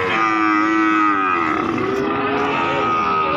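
A PO breed cow at a livestock market lets out one long, loud, close moo that wavers in pitch for several seconds.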